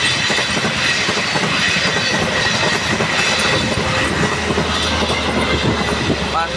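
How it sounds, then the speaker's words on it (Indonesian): Passenger train Rangga Jati passing level crossing JPL 92A at Sukomoro, loud continuous rumble and clatter of wheels on rails close by, with a faint squeal near the end. "Kereta api datang melintasi di KPL 92A."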